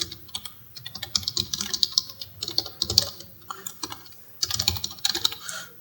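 Rapid keystrokes on a computer keyboard as an email address is typed into a CV in MS Word, coming in quick bursts separated by short pauses, close and clear with no talking.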